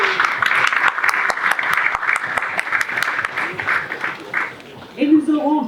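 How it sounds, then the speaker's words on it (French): An audience at a convention panel applauds a visiting author with sharp, distinct claps over several seconds, thinning out before a voice speaks at the end. "Vous pouvez l'applaudir"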